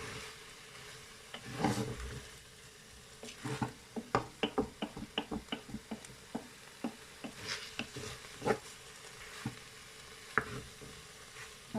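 Veal pieces brown in a Cookeo pot with a soft sizzle. Clusters of quick crackling pops and utensil taps come in rhythmic bursts, loudest in the middle, over quiet frying hiss.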